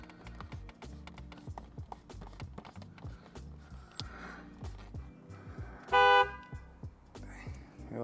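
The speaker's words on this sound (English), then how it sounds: "if I stop beeping the horn" Car horn on a 2021+ Ford Bronco giving one loud, sharp beep near the end, amid scattered handling clatter and soft background noise.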